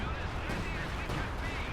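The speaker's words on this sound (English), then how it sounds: "Second utilage of howitzer barrage here." Howitzer artillery barrage in a strategy video game, a dense continuous rumble of overlapping distant booms and thuds over a short stretch, heavy low-end and fairly loud.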